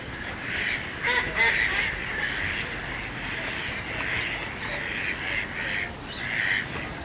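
A flock of waterbirds honks repeatedly at an aviary exhibit, the calls overlapping in bursts over a low background murmur.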